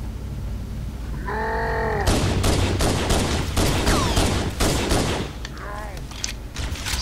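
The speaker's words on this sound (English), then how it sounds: "The Halo CE pistol is so much powerful than all the pistols in Halo." Halo CE pistol gunfire in the game, a rapid series of sharp shots close up, with game tones and effects before and after the burst.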